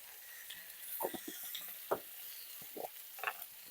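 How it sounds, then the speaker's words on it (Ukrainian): Vegetables frying in a pan for a beer-braised meat dish, a soft steady sizzle broken by several short scraping stirs of a utensil, close and fairly quiet, with no talking. "зараз трошечки наші овочі ще підобжаряться"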